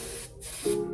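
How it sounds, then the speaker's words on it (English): Short bursts of brake cleaner sprayed from an aerosol can onto the oil path around an oil filter housing on a BMW 3 Series E90, a steady close hiss that breaks briefly and resumes. "I'm just gonna spray a little brake cleaner on that path where the oil goes, just so I can chase it"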